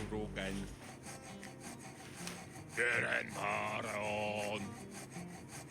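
Rasping file strokes from the video game Prison Simulator, a steady scraping that rubs on and on at close range, with tonal game sounds and effects layered over it partway through.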